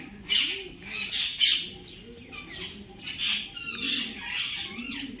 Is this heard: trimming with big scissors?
no